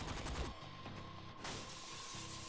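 Gunfire in the Saints Row 4 video game: a rapid burst of shots at the start, then further rattling volleys, loud and close over steady game background noise.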